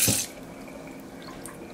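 A shower is shut off during a pet monkey's bath: a brief burst of spraying water cuts out, leaving a faint, quiet wet background with a few soft drips.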